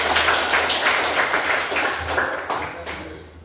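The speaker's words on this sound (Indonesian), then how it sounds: "kita berikan aplaus dulu" Classroom applause: a group of students clapping together in a fairly dense, steady patter for a few seconds, fading slightly toward the end.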